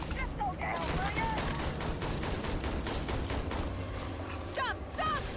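Gunfire in the sci-fi video game Starfield, a dense, continuous barrage of shots with mechanical clatter over game ambience and music, with voices talking throughout.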